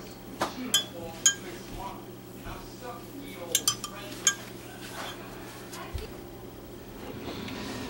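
A metal spoon scrapes and clinks against a roasting pan while scooping turkey drippings and broth, giving scattered sharp chinks and clatter at close range over a quiet background.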